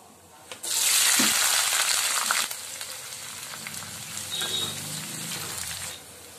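Onions with green chillies and cumin hit hot oil in a pan, a loud burst of sizzling that settles into a softer, steady frying crackle with some stirring, with no talk over it.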